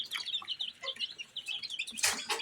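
Farm broiler chicken chicks peep in a busy, high-pitched chorus of rapid overlapping chirps, close by and fairly soft, with a louder burst near the end.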